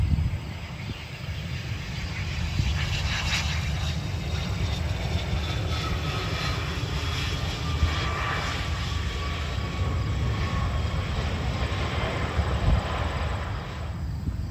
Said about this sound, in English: We also got a Delta 737 lighting up from Atlanta.